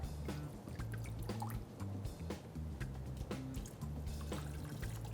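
Coconut water pours into a kitchen mixer for a plant-based recipe, a quiet, close trickle with splashy drips that runs steadily for about five seconds.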